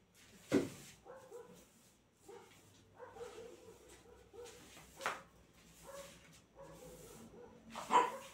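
A female dog barks in a few separate, fairly faint woofs spaced a few seconds apart, with softer whimpers and yips between them in a quiet setting.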